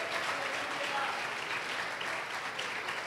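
Church congregation clapping during a worship service, a dense, steady wash of applause filling the room, with a voice talking faintly beneath it.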